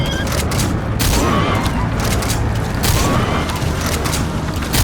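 Gunfire and explosions in the Metal Gear Solid V: The Phantom Pain video game, heard as loud, repeated bursts and booming blasts over a dense battle din.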